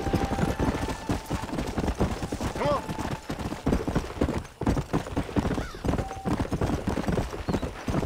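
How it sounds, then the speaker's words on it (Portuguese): A horse gallops through town streets in the Red Dead Redemption video game, its hooves beating a quick, steady clip-clop rhythm close up, with a brief whinny and background game sounds mixed in. "O cavalo ele corre mais rápido aqui nas ruas,"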